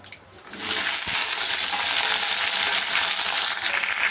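Sliced okra sizzles loudly in hot oil in a pan, a steady close frying hiss that starts after a brief quiet moment and runs on unbroken.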